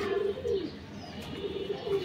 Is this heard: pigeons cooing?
yes